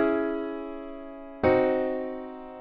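Sustained synth chord from a drill beat built in FL Studio, two rich harmonic chords in sequence, the second entering abruptly just after the first and slightly lower in root, each slowly decaying, played alone with no voices.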